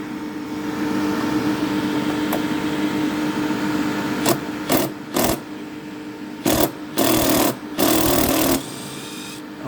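A power drill fitted with a socket bit whirs steadily at close range, then cuts out and restarts in several short loud bursts near the end, alone with no talk.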